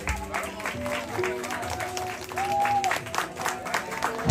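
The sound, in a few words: applause at a Marma wedding cake cutting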